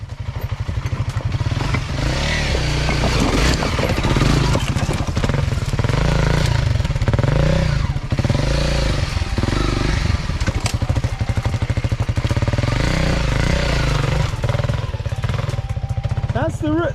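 Honda CRF300L motorcycle on a hard enduro off-road trail, its engine revving loudly and steadily up close, with clatter and thumps from the rough ground and voices talking over it.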